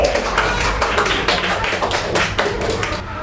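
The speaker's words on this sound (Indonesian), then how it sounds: "Beri tepuk tangan untuk kelompok persegi." Fourth-grade elementary classroom applause for a student group, a dense burst of brisk hand claps from many children lasting about three seconds, with little talking.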